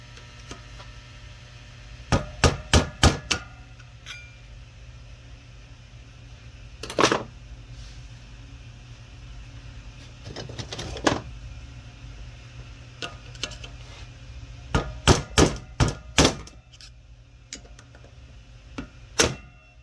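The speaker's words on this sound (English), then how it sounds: "I'm going to try this with a hammer and a screwdriver" Sharp metallic hammer strikes on a screwdriver drive out a part of a GXP 4T65E HD transmission, coming in quick clusters of three to five blows separated by pauses, loud and close with no talking.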